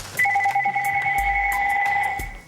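A telephone rings at home, a steady two-tone electronic bell trill held loud and close for nearly the whole stretch with low thumps underneath.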